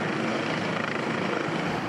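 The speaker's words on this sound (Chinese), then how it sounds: "自直升机顶头降落" A French GIGN special-forces helicopter hovers during a hostage-rescue drill, its rotor roar steady, dense and loud throughout with a constant churning wash and no voices.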